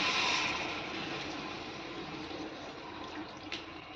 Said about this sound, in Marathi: त्याच्यामध्ये आपल्याला गरम पाणी घालायचं